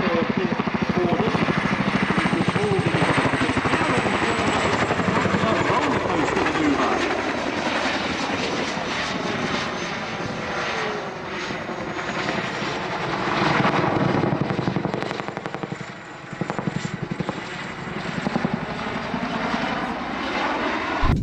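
A heavy twin-rotor Chinook helicopter performs a stall turn at the Waddington Air Show, its engines roaring and rotor blades thudding loudly and steadily throughout, with the pitch and throb shifting as it manoeuvres.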